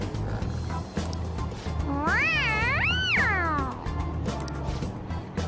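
Morgana, the cat character in the video game Persona 5, lets out two loud, close, rising-and-falling meows in quick succession over steady game background sound.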